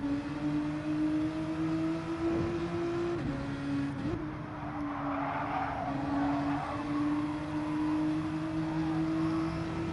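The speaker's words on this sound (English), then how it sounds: "No, they're revving it out." Race cars in Gran Turismo 7 revving out hard, a loud, steady engine whine holding high pitch with brief dips where revs drop and climb again, continuous for several seconds with faint tire noise.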